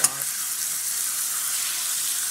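Boneless chicken pieces fry in hot oil for a chicken masala, giving a steady, close, bright sizzle with no pauses and no talking.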